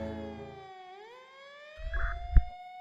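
Video game police siren wailing with a rising, sweeping tone, moderately loud, with a low rumble and a sharp thump near the end.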